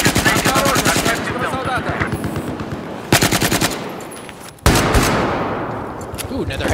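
Rapid gunfire in Battlefield 4 during a night operation, with Desert Eagle shots among it: fast, loud bursts of repeated shots broken by a couple of sharp, heavy cracks that ring out and fade.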